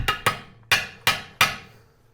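Impact wrench hammering at Volkswagen Beetle engine bolts in five loud, close bursts, each a sharp rattling hit that fades out quickly, with short gaps between, no talk.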